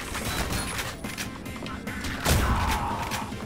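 Shotgun blasts from the weapon in the retro first-person shooter Ion Fury, several sharp reports in quick succession amid busy game noise, with a heavier crashing hit near the end.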